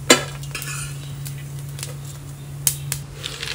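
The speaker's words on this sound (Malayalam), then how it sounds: "ഇത് നമുക്കൊരു ഉണങ്ങിയ പാത്രത്തിലോട്ട് കോരിയെടുക്കാം" Roasted coconut cooked down with water is scooped from a pan into a dry vessel: scattered spoon scrapes and metal clinks over a low steady hum, with a sharper clatter at the start and near the end.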